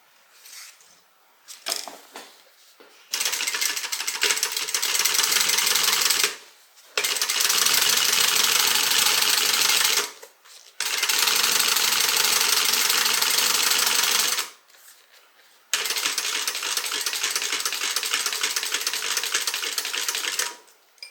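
Sewing machine top stitching a leather or faux leather sling bag: four long runs of rapid, loud mechanical needle chatter, separated by brief pauses and a few soft handling clicks at the start.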